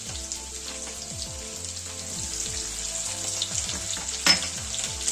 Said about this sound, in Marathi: आणि आता हे चांगलं खमंग होईपर्यंत परतून घेऊया